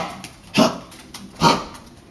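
A small Chihuahua-poodle cross dog barks twice indoors in a home hallway, two short sharp yips spaced about a second apart, fairly close and clear with no talking.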